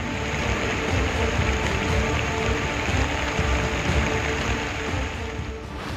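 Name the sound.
heavy rain with flood water at a railway station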